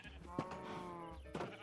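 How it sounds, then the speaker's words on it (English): Sheep bleating in the video game Minecraft, with two short bleats about a second apart over faint background game sound. "now a sheep left, so I'm gonna have to wrangle the sheep back in"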